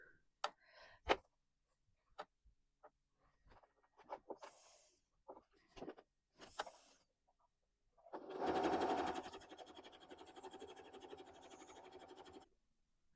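A sewing machine stitches quilt patchwork pieces in one steady, close run of about four seconds, preceded by scattered clicks, taps and handling noises of fabric and tools.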